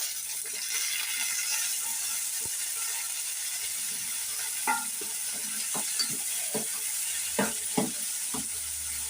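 Snake gourd tossed with salt and turmeric fries in a pan, a steady even sizzle broken by occasional scraping clicks of a spoon stirring.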